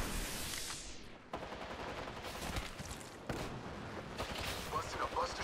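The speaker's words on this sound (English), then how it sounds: "They spotted me. I'm taking shots." Bursts of gunfire from Apex Legends, with dense rapid shots and fusillades coming in waves that are cut by short pauses, loud and close, while a voice talks over part of it.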